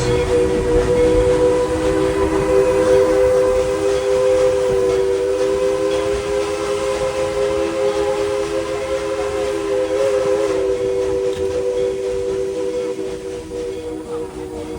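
Steam locomotive on a heritage railroad crossing a trestle at night, its whistle holding a long, loud, steady multi-tone blast over the continuous rumble and clatter of the train.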